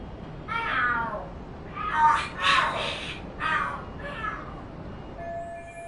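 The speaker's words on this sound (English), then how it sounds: "Are there cats fighting?" Cats fighting and screeching in the video game Lost Judgment, several loud drawn-out yowls and caterwauls rising and falling in bursts, with crow-like harsh cries mixed in, before quiet game ambience and a faint tone.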